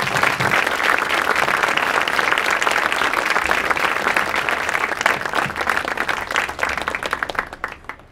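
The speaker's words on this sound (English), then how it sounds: "put your hands together, give a warm New York welcome to Hiroshi Fujiwara" Dense, steady applause from a crowd in an Apple Store Soho audience in New York, welcoming a guest designer on stage, loud and sustained throughout before tapering near the end.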